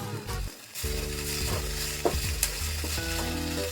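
Tadka tempering sizzles in a pan for a pudina chilli chicken dish, a steady frying hiss with stirring clatter throughout, broken by a short quiet gap near the start, with music-like tones running underneath.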